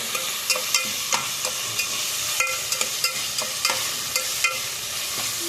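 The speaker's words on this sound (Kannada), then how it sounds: "ಟೊಮೆಟೊ ಲಾಯ್ಕ್ ಫ್ರೈ ಆವಡು ಅವು ಟೊಮೆಟೊ ಅಂತ ಸ್ಮೂತ್ ಆವಡು" Tomatoes frying and being stirred in a pan for dal palak, a steady bright sizzle under frequent light spatula taps and scrapes, close and even throughout.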